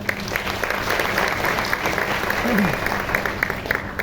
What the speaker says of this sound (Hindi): बस जोरदार तालियां इनके लिए